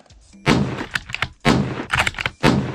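Rifle shots at an outdoor shooting range, a Remington 700 or SKS, three loud, close reports about a second apart, each with a brief ringing tail.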